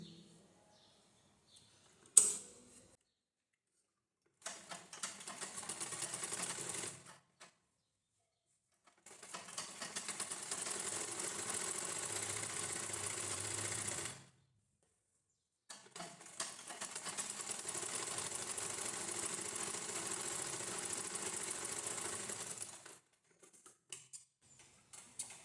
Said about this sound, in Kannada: ಡೈರೆಕ್ಟ್ ಒಂದು ಸ್ಟಿಚ್ ಹಾಕ್ಕೊಳ್ಳಿ.